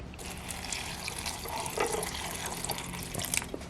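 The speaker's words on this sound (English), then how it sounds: "So today I'm going to put it in the rice cooker with some water." Water is poured into a Dash Mini rice cooker, a soft continuous trickling and splashing that swells slightly midway, fairly quiet and heard alone.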